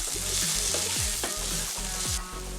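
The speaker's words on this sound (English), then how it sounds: "now I'm going to go in with some herbs that I grind earlier" Ground cumin, coriander, pimento berries, fennel and mustard seed fry in a pot for a pumpkin curry stew: constant close sizzling with rhythmic scraping stirs of a spoon throughout.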